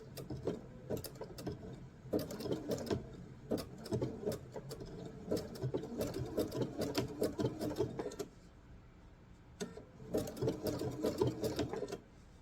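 Sewing machine stitching a fabric bowl together, rapid mechanical chattering in several bursts separated by short pauses, close and clear with no talking.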